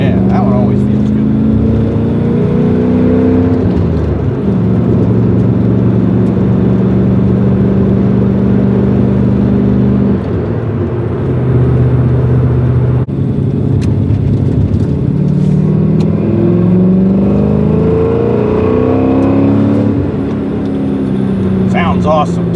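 An LS V8 engine in a Porsche 944 accelerates hard and loud from inside the car, rising and falling through repeated revving sweeps and gear changes over twenty seconds, with occasional talk over it.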